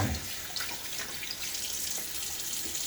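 A shaving brush is rinsed under a running tap, a steady full rush of water splashing into a sink for a few seconds, close and continuous, with no talk.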